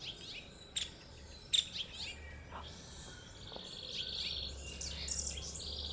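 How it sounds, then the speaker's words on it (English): Wrens sing in a garden: a few sharp, bright chirps, then rolling, trilling song phrases at moderate distance over a soft outdoor background with faint insect hum. "if you can hear the melody that rolls, those are wrens"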